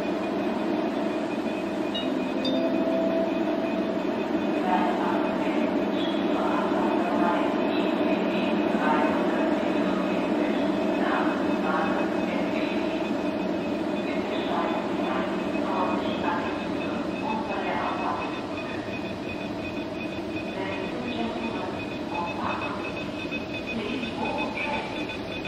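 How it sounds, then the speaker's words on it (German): ICE train at the Freiburg station platform, a continuous rumbling hum of the train with rhythmic rail clatter and a steady high whine, with people talking nearby. "Gleis 18 ist unser Zug."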